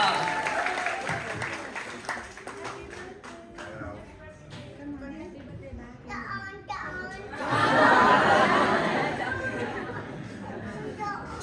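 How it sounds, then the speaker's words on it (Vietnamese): A crowd applauds at a family event, the clapping mixed with chatter and children's voices, swelling to a louder burst near the end. "Chúng ta vỗ tay thật lớn cho gia đình dễ thương này đúng không ạ?"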